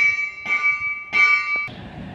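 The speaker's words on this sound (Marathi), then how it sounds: "आता सध्या पुढे ट्रेन आलेली आहे" A train arriving at Ashti railway station in Beed gives a high, steady metallic whine in two swelling bursts, with rumbling underneath, then fades to a softer hiss.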